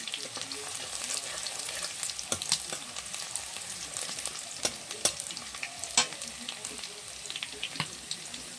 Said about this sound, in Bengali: নাড়াচাড়া করে ভেজে নেব, আর একটুখানি হবে।